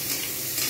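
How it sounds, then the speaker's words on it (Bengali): Salted food frying in a pan is stirred, giving a short, close burst of steady sizzling with soft scraping and no speech. "আমি স্বাদ মতো নুনটাও দিয়ে দিলাম। এবার একটু নাড়াচাড়া করে নিয়ে"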